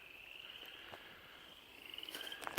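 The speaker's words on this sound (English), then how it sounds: "Still hear the crickets come around" Faint, steady cricket chirping in a quiet outdoor setting, a thin continuous trill with a few soft rustles near the end.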